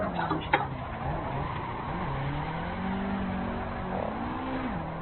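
A drift car in the Assetto Corsa racing game holds a steady, sustained engine drone with a brief sharp blip near the start, running fairly loud and alone with no talk.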